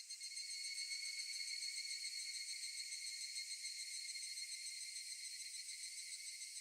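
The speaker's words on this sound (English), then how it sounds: "The cicadas." Cicadas in the Higurashi game keep up a shrill, steady, high-pitched drone that runs unbroken and fairly faint, with no talk over it.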